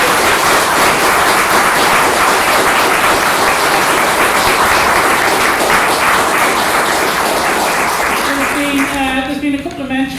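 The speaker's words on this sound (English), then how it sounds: "Give them a round of applause." Sustained audience applause for the speakers at a community meeting on tackling racism, loud and steady for nearly ten seconds before thinning out as a voice begins talking near the end.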